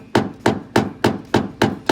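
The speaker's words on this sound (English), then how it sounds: "I'll just put the screwdriver in there and just kind of tap it with the hammer as I'm turning it" A hammer taps a screwdriver to loosen a rusty, stubborn screw in a 1978 Chevy Camaro during a car stereo install: seven sharp, evenly spaced metallic knocks, close and loud.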